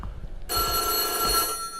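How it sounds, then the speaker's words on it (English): An old telephone bell rings loudly and steadily in the horror video game White Day, a continuous metallic trill that starts suddenly and fills the space, with quiet room ambience before it. "Let's go answer that phone."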